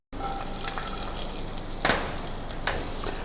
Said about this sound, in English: Once the garlic has been sauteed, I'll transfer the onions into the same pan, saute for around 10 seconds.